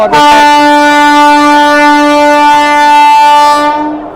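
A loud, sustained electric locomotive horn from a DDO shed WAP-4 blares close by as the Ranikhet Express departs Delhi Junction, a rich chord of steady tones holding for several seconds before fading off.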